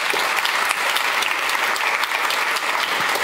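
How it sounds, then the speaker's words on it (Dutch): A lecture audience breaks into dense, steady applause that fills the room evenly from start to finish, with many hands clapping at once and no voices rising above it. "Applaus."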